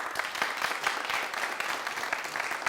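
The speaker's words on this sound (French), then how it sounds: "Merci de l'applaudir." A television studio audience applauds a music company CEO guest, with quick, distinct claps in a lively, close patter that carries steadily throughout.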